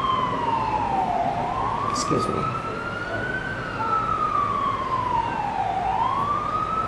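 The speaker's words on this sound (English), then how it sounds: "I'll just let that fire engine go by." A fire engine siren wails in slow rising and falling sweeps as the truck passes at moderate distance, with traffic rumble underneath and a person speaking briefly.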